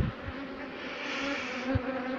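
A steady, close buzz of many honeybees at an open beehive fitted with a queen excluder grid, a continuous drone with a few brief low thumps and no talk.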